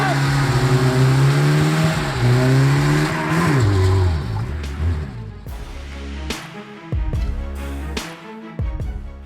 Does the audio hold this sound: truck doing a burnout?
yes